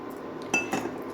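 A metal lid is set onto a pot of cooking chicken pulao, giving two quick clinks a moment apart, close and fairly soft, with no talking.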